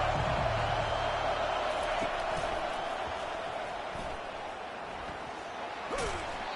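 Stadium crowd noise in the College Football 25 video game, a dense continuous roar of a packed home crowd during a defensive series, loud and steady throughout with faint thuds.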